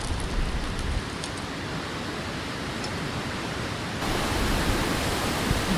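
Strong wind blows up through Cotter Gap, a mountain pass, as a steady broadband roar that briefly eases and then surges again, with no talking.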